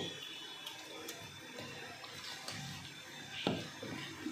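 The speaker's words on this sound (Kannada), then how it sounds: "ಈಗ ಇದಕ್ಕೆ ನಾನು ಇನ್ನೂ ಸ್ವಲ್ಪ ನೀರು ಹಾಕ್ತಾ ಇದ್ದೀನಿ." Water being poured into rava idli batter, a faint, steady trickle and splash under low room noise, with no talking.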